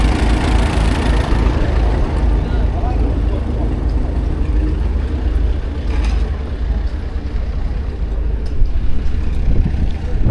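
A Fordson Type N tractor engine idles at a steam rally, a loud, continuous low rumble with steady mechanical chatter and outdoor background noise throughout.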